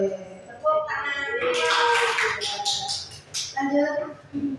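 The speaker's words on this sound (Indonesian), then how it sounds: "Tepuk tangan." A group claps hands together during a positive-discipline training session, a broad burst of applause rising over ongoing talk and then fading as voices continue.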